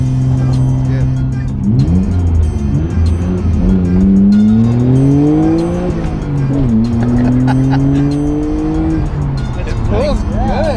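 A Nissan Skyline GT-R's RB engine with a restricted exhaust revs up and down repeatedly, loud and close, its pitch climbing and falling through several sweeping pulls.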